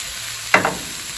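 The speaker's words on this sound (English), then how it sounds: "we'll allow them to saute" Onions, sweet pepper and a clove of garlic hit a pan for a veggie burger filling, giving one short sizzling burst over a steady background hiss, then fading back quickly.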